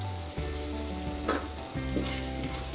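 Mango chutney cooks in a pan and is stirred, with a soft sizzle under steady layered tonal background sound, probably music. There are a few faint scrapes and no speech.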